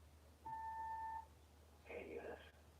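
A single steady electronic answering machine beep, clear and close, followed a moment later by a brief burst of another tone or voice-like sound on the recording.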